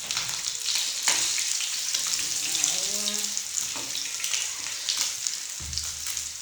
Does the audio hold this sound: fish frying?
yes